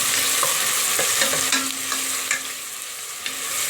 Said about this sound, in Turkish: Şimdi soğanlarımızı güzelce yağda kavuruyoruz.